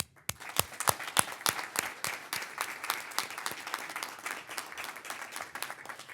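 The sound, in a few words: audience applause at awards ceremony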